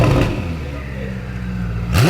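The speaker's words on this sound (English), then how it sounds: "One is a Ferrari F8 Spider that we installed a full exhaust system," A Ferrari F8 Spider fitted with a full exhaust system revs loudly, a deep engine roar rising at the start, holding steady, then climbing sharply again at the end of a short burst.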